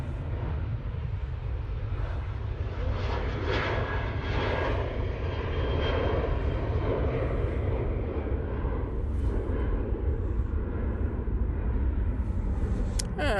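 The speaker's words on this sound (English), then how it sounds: "And that Ryanair's off to Berlin" A Ryanair airliner taking off from Manchester Airport for Berlin, its engines building into a loud, rumbling roar that swells and then holds steady in the distance.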